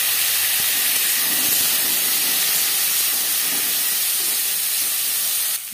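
Raw mango added to hot oil already frying with dried chillies and panch phoron, giving a loud, dense, even hiss that holds almost unbroken and cuts off abruptly at the end, with no voices.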